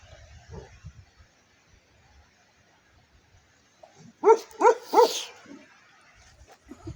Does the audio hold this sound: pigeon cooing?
no